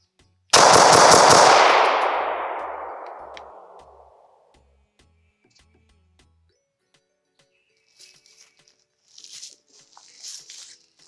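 Rapid shots from a Dagger pistol fitted with a red dot sight make a loud burst lasting about a second, then ring out into a long fading echo, with faint chirps and ticks afterward.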